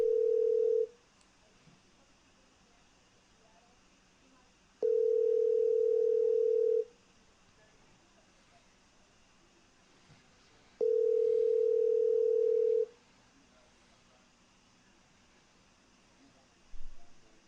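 Phone call ringing out and going unanswered to voicemail, with three long steady ring tones separated by several seconds of quiet line hiss, close and clear, no one speaking.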